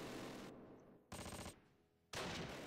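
Gunfire in the Close Combat WWII strategy game at Sword Beach, with two short bursts of distant machine-gun fire separated by quieter pauses.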